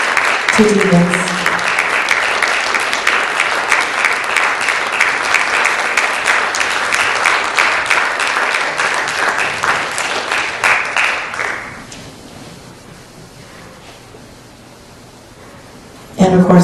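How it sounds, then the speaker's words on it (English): An audience in a hall breaks into loud, sustained applause, dense rapid clapping close and full for about eleven seconds before cutting to a quieter room hush, with a burst of sound returning at the very end. "Let's give these folks a big round of applause for putting this together"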